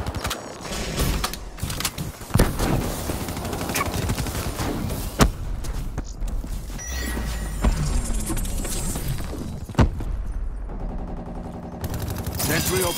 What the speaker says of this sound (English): Sentry opening fire.